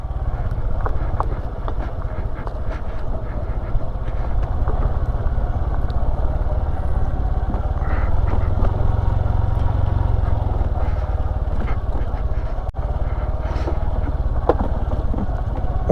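A Honda Super Cub motorcycle rides down a steep descent on a hot day, its small engine giving a steady, continuous low drone with road and wind rumble throughout, close and fairly loud.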